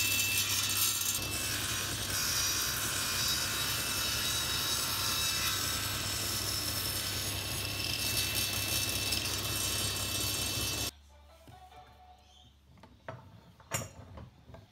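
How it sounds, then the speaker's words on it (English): Power saw cutting mitres in wooden frame pieces on a zero clearance mitre sled, one long loud steady cut that stops abruptly, followed by faint workshop clatter. "Next step was to cut the mitres on one end of each piece using my zero clearance mitre sled"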